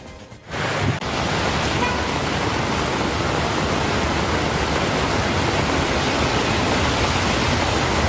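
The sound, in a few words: heavy rain and water flowing over the road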